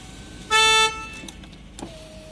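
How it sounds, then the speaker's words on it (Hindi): Horn of a Hyundai Grand i10 Nios sounds once in a short, clear, loud tone lasting about a third of a second, followed by faint clicks and quiet cabin ambience. "इसमें आपको कुछ इस तरह का हॉर्न मिलेगा।"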